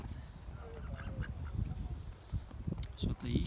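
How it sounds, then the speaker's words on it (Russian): Mallard ducks, green-headed drakes and grey-necked birds, quacking and honking at close range in a snowy city park in winter, with people talking over them. "Уточки, какие умнички."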